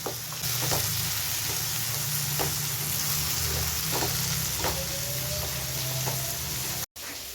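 Tomatoes, onions and ginger garlic paste sautéing in a pan for prawn thokku, a dense continuous sizzle with light stirring taps, close and steady with no talking.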